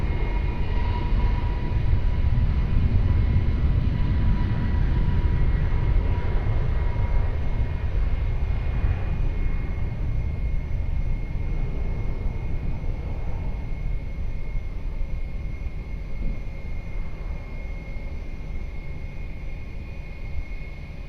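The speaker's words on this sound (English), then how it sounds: "Takeoff, Portugal 836 will be rolling." A passenger airliner takes off at Lisbon Airport in Portugal, with a loud, steady jet roar that holds for about twenty seconds and slowly fades as the aircraft moves away.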